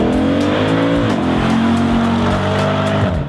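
A Mercedes-AMG convertible engine revs loud and close, its exhaust note climbing and settling in steady harmonic sweeps with a faint rasp from the tires, and no voices over it.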